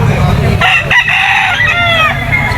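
A stag gamefowl rooster crows loudly and close by at a pet market, its drawn-out call rising and wavering across most of the moment amid surrounding bird noise.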